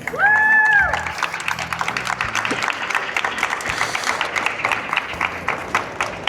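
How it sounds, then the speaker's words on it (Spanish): Audience at a winter book-fair presentation of a history book breaks into sustained, dense clapping that carries on steadily after a brief tonal sound at the start. "En esta tarde le damos un fuerte aplauso a Manuel Méndez Martínez."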